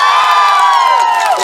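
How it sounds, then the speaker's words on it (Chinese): A concert crowd screams and cheers for the band, with high, sustained shrieks sliding downward over a bed of crowd noise. "乐团老师热情的掌声加尖叫声"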